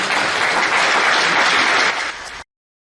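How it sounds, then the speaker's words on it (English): Audience at an event honoring an elderly imam giving a round of applause: loud, dense clapping from a large crowd that holds steady, then cuts off abruptly. "Imam, 83 years old, Imam Abdullahi Abu Bakr, to please stand and get a round of applause."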